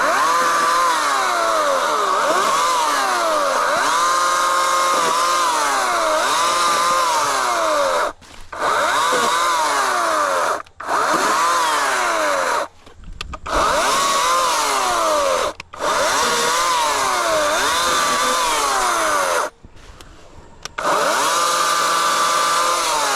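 An Atlas 80-volt battery chainsaw with a 14-inch Oregon bar whines and bogs as it cuts through wood, loud and close, in several long passes separated by brief pauses.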